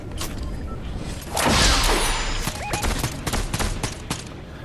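Rapid gunfire bursts from Fortnite, a dense fusillade of shots with a louder swell near the middle, close and loud, followed by sharper scattered single reports.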